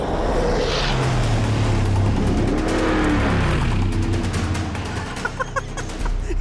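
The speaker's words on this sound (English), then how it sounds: "It's drifting. Now it's a rally car. A gigantic rally car." Mercedes G63 AMG 6x6 drifting on a flat desert floor, a loud continuous engine roar with rising and falling tones and rushing tire and gravel noise, heard close throughout with no talking.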